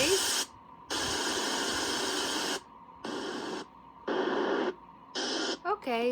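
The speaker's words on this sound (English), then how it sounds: "White noise." An AIRIVO alarm clock's white-noise setting plays a broadband hiss in several separate bursts with short silent gaps between them, ending with a brief bit of other sound.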